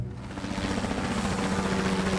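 An exaggerated cartoon snoring effect sounds like a loud helicopter rotor, a steady, close, heavy chopping roar that swells in and holds for about two seconds.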